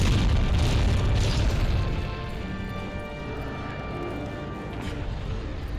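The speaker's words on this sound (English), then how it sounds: "Load the cannon." A cannon booms in the video game Monster Hunter: World, a heavy deep blast followed by a rumbling explosive tail that fades into game sounds.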